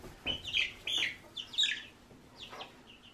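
Chickens cluck and squawk in short bursts close by, with a few brief calls spaced over a few seconds and no talking.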